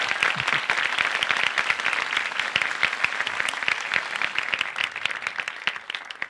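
Studio audience applause fills a Turkish relationship-quiz show, dense and steady clapping at close range for about six seconds, fading slightly at the end with no talk over it.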